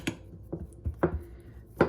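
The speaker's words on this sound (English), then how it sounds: "I'm going to use the bottom of a glass, and I'm just going to smush this crust down into the pan" Keto cheesecake crust pressed into a pan with the bottom of a glass, giving a few soft, irregular thuds and knocks against the pan, close and fairly quiet, with no talking.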